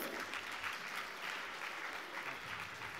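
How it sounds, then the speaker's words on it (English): A round of applause from the audience at an awards ceremony, steady crowd clapping that stays even and fairly soft throughout, with no speech over it. "Let's give them a huge round of applause"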